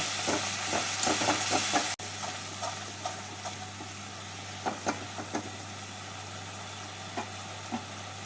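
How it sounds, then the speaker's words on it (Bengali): Spice paste frying and being stirred in a pan for a mrigal fish curry, a constant sizzle with a low steady hum beneath and occasional sharp spatula knocks, no speech. "এবার মশলাটাকে ভালো করে কষিয়ে নেব"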